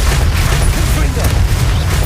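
A Confringo fire-blast spell in the Hogwarts Legacy game, heard as a dense, continuous low booming rumble with crackling texture that lasts the whole stretch, with talk faintly underneath.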